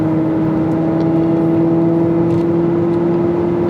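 Maserati GranTurismo MC exhaust holding a loud, steady, close-up drone with a strong sustained engine tone throughout, a constant rumbling revving note with no speech over it.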